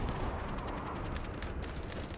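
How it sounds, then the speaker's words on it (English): Explosions in the shooter game Delta Force give a dense, loud, rumbling roar that carries on without a break for about two seconds. "I'm so focused on the explosions that are happening around me"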